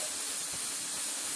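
Steam hisses steadily from a pressure cooker of khichdi on a stove after its whistles, a continuous loud broadband rush with no pauses and no talk.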